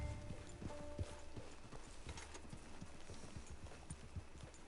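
Horse hooves clip-clop steadily in the Red Dead Redemption video game, a quick, even rhythm of soft thuds with faint mechanical clatter behind, heard quietly and alone.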